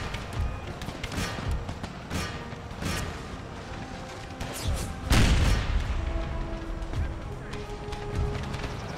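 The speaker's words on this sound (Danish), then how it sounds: "for de står og skyder på os, ser det ud til" Empire: Total War gunfire in an American Civil War battle for Charleston, scattered booming shots and a short burst of fire, heard under ongoing talking.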